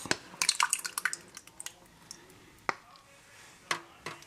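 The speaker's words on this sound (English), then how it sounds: "And then pour it in the pan." Spinach cheese manicotti sauce is ladled and poured into a baking pan, giving wet drips, soft squishes and light clinks of the ladle against the pan, irregular and close.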